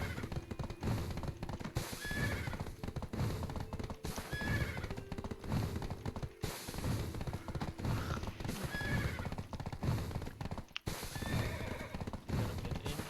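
A horse in the online game Black Desert Online whinnies several times over steady clip-clopping hooves, the galloping running continuously and close throughout.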